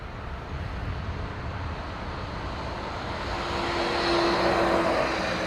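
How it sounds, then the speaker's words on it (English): A Pratt & Whitney-engined airliner arriving on Dublin Airport's north runway gives a steady distant roar, then a low buzzing, growl-like tone briefly rises above it as the noise swells. "that's why you'll be able to hear that kind of Wookie noise on any of the A220s, the E2 Embraers, and on some 320 Neos"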